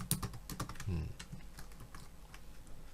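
Typing on a computer keyboard while entering Java code, a quick irregular run of sharp key clicks, with the speaker talking over part of it.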